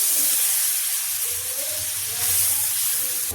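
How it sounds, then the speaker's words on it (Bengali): Rice-flour batter for patishapta hitting an oil-brushed tawa griddle, giving a loud, continuous, close hiss and sizzle with a faint low hum beneath and no talking. "তেল ব্রাশ করে দিলাম, এটা দিয়ে কিন্তু তেল খুব সুন্দর চাটুতে দেওয়া হয়। একটু ব্যাটার দিয়ে দিচ্ছি"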